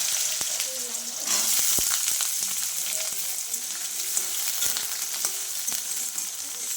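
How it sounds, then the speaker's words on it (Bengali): Potato pieces frying in hot oil after a five-spice tempering, for a Bengali ash gourd ghonto: a steady close sizzle throughout, with scattered sharp pops and scraping stirs. "আমি আলু কটা আগে একটু ভেজে নেবো ভালো করে"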